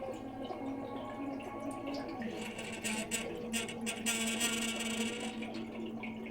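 CO2 gas from a regulator set near 10 psi bubbling into a keg of homemade sparkling wine, a continuous gurgling, watery churn with irregular bursts that swell and fade.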